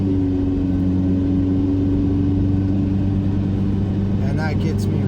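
A 1.9L TDI diesel-swapped one-ton Dakota truck with a GTC2262 turbo accelerates, its steady engine drone and low rumble continuous and loud from inside the cab, with a brief voice near the end.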